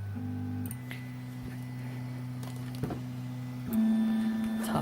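A 3D printer running a calibration routine, its stepper motors humming in steady, shifting tones with a few small clicks, quiet and nearby, no voices.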